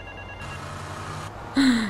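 In the video game GTA Vice City Definitive Edition, a mobile phone rings with a short, bright electronic trill that rises clearly over low in-game background sound.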